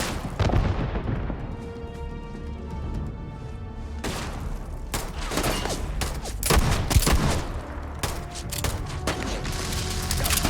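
Heavy gunfire erupts in a Starfield firefight at Akila City, with dense bursts of shots and booming impacts coming thick and loud, broken by a short lull before the barrage resumes.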